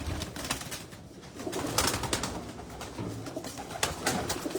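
Lakha pigeons coo in soft repeated phrases at a loft in Jinnah Garden, Islamabad, the close low calls overlapping with light rustling and background noise.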